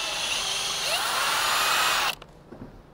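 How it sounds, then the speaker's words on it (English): A power drill whines loudly at high speed for about two seconds, drilling a small hole in a Subaru WRX, then cuts off abruptly, leaving a few faint clicks and handling noises. "we're actually gonna drill this small hole here"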